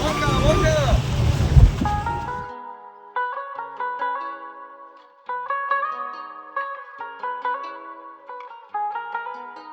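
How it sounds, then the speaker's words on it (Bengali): A speedboat rides across the open sea at Los Arcos, Puerto Vallarta, Mexico, with a loud rush of wind, engine and water for about two seconds before music takes over. "ফেরার টাইমের এই স্পিডবোট রাইডটাই যেন আমার কাছে শ্রেষ্ঠ মনে হচ্ছিল।"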